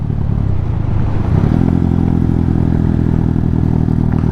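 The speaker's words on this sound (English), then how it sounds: "That engine braking though." A Hawk 250 motorcycle engine rumbles steadily up close, its low throttle-off engine-braking burble and clatter continuing without a break as the bike rolls along.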